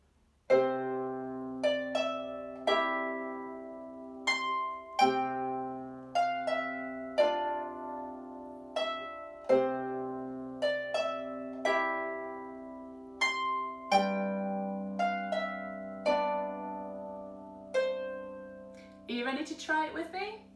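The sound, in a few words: both hands playing octaves and chords together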